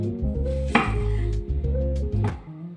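A knife cutting an onion into thin strips on a board: a few firm, spaced chops with soft thuds between them, close and clear, no voices.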